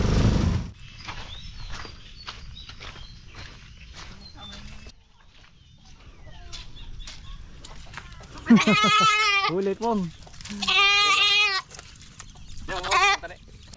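Goat kept for a birthday feast bleats loudly and close several times in wavering, drawn-out cries, with scattered footsteps, rustling and people talking in between.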